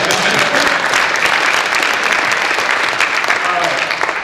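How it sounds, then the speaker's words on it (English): Loud, dense audience clapping at a career advice panel, sustained and even for several seconds with a voice briefly under it. "Clap for this man right here."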